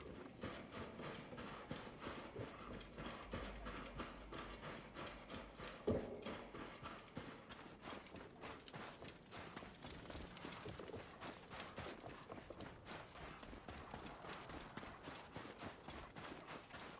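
Hooves clip-clop in a steady galloping rhythm from a horse ridden in the video game Assassin's Creed Origins, loud and continuous throughout, with a sharp thump midway and faint mechanical clatter underneath.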